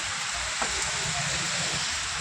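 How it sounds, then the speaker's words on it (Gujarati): Heavy rain pours down in Mehsana as a dense, continuous hiss, close and steady throughout with no pauses. "તો જોરદાર વરસાદ ચાલુ"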